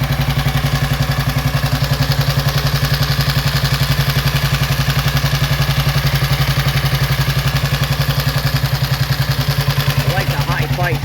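Motorcycle engine idling close by after starting right up, with a steady, even rhythmic thump and a constant low drone, and a brief rise near the end.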